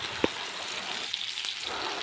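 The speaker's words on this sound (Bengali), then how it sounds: "আমি তেলের মধ্যে দিয়ে দিয়েছি কালো জিরে ফোড়ন ফোড়নটা একটু ভেজে নিচ্ছি" Nigella seeds tempering in hot oil in a pan give off a steady, fairly soft sizzle, broken by one small sharp pop and a few faint crackles.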